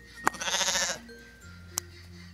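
Newborn lamb on a sheep farm giving one clear, wavering bleat up close, followed by a short faint click and quiet background.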